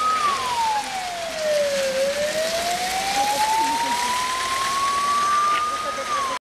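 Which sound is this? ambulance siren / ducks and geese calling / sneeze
ambulance siren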